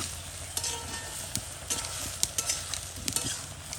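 Prawn curry sizzles steadily in a hot pan while a spatula scrapes and knocks through it in irregular strokes, close and fairly quiet.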